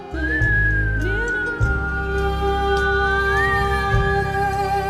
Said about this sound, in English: Now whistle out the exhale.